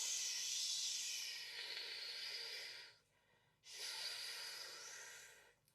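A voice imitates a fizzing drink with a long breathy shh hiss, pausing briefly before a second sustained hiss, close and soft.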